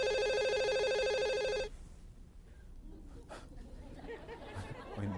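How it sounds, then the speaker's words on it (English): A telephone rings with a bright electronic trill for about a second and a half, then stops, leaving a room with murmuring people and scattered light laughter. "Who's got the phone going?"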